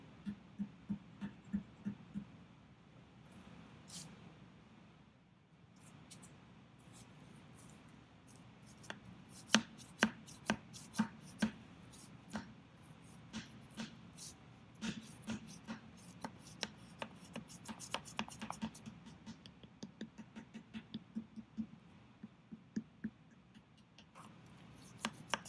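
A wooden paddle tapping a clay coil pot into shape, giving many quick, light, dry taps in uneven bursts over a faint steady room hiss, fairly close and soft.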